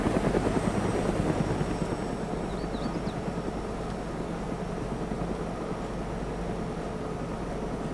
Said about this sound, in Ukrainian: Вертольоти